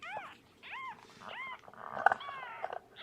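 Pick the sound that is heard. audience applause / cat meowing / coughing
cat meowing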